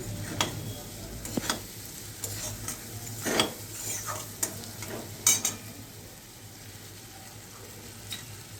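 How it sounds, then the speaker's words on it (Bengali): Spices and fried potatoes being stirred in a frying pan for Bengali raw banana kofta, with soft sizzling under intermittent scraping and clinking strokes of the spoon against the pan, near and moderately loud. "আলুগুলো মশলার সঙ্গে ভালো করে মিশিয়ে নিচ্ছি।"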